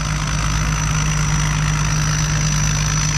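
A Hino JO8C turbocharged diesel engine in a rice harvester idles close by, a loud, continuous low rumble with a thin high whine running through it.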